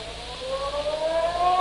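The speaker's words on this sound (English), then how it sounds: "just as the ferry building siren was announcing 8 o'clock to downtown San Francisco" A ferry building siren in downtown San Francisco sounds the hour at eight o'clock, a steady wailing tone that rises slowly in pitch and grows louder over its short span.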